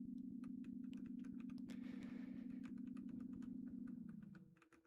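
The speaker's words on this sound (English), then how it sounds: "Can you guys hear my keyboard?" Rapid computer keyboard clatter during a gaming session, many quick close keystrokes in a steady stream over a loud continuous musical drone that fades near the end.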